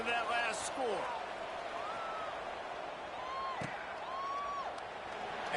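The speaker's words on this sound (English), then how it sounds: "this crowd is buzzing after that last score" Stadium crowd in a football video game, a steady loud buzz of many voices with scattered whoops and whistles, continuous throughout under a faint sweeping tone.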